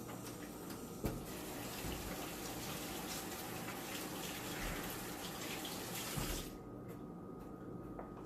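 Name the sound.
tap water running while washing hands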